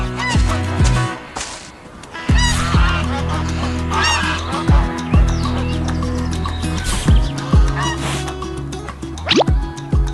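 A cartoon goose honks repeatedly in a farm animation with a bear near a wooden house, loud and close, the nasal honks recurring across a busy, music-like background with no speech.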